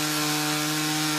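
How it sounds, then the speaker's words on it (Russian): Wooden beams being sawn at a small airfield in Izhma in the taiga, a steady, continuous rasping saw noise with a constant mechanical hum, fairly close and alone. "Брусья пилят, рубят, избивают щиты."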